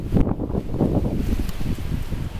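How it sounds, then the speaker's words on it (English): Strong wind buffets the microphone in loud, gusty low rumbles, continuous and rough throughout. "literally it's so windy that my hood is up"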